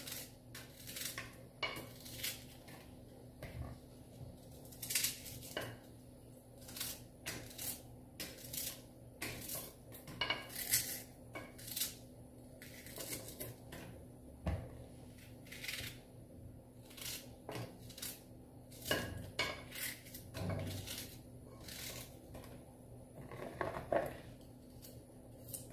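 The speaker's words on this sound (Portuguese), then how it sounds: "Vou dar uma picadinha aqui, ó, na cebola. Vou picar grosseiro mesmo" Coarse chopping of onion with a knife on a cutting board for a spiced pepper sauce: a long run of sharp, irregular close-up knife strikes, some in quick bursts, over faint room hum.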